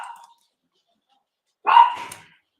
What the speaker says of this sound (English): I'm just going to wait for the dogs to stop barking.